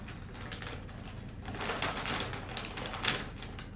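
Package being opened and its contents pulled out during Foley catheter insertion practice, a steady run of close crinkling, tearing and rustling that swells midway with a few sharper rips, no talking.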